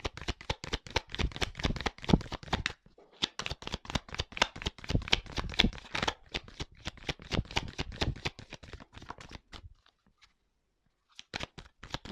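Tarot cards are shuffled and drawn by hand in a quick, close run of crisp riffling flicks and slaps, pausing briefly twice and then resuming, with no talking.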